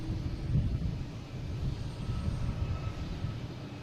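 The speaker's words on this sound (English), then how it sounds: "here's Alaskan Airlines heading to San Diego" An Alaska Airlines Boeing 737 MAX 9 jet passes at an airport with a steady, low engine rumble that swells slightly and then holds, mixed with some wind buffeting.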